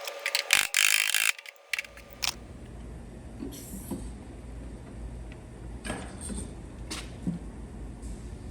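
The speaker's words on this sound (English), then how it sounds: "I'm just using the dent puller now" A loud burst of clicking ratchet strokes from a dent puller on an Audi Q5 quarter panel at the start, then quieter scattered metallic clicks and knocks over a low steady hum.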